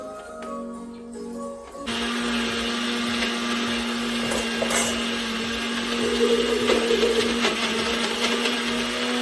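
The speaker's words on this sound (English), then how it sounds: "I'm blending my pumpkin." An electric blender whirs loudly and steadily as it purees pumpkin with coconut milk, starting abruptly after a quieter moment and running continuously near at hand.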